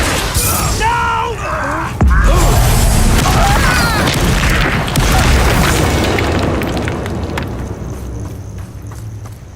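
A Confringo spell bursts in a Harry Potter wizarding video game, a loud booming explosion with crackling debris and clattering sounds mixed with in-game voices and music.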